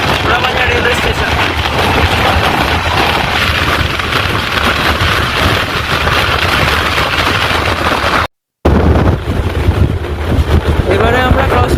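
An LHB express train runs at around 110 km/h through Porabazar railway station, a loud, continuous roar of wheels and rushing wind heard from on board, broken by one brief dropout.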